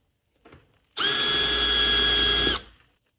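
A power drill with a RoViar countersink bit chamfers a hole, making one loud, steady whirring run of about a second and a half. Brief handling noise is heard before it starts, and it spins down at the end.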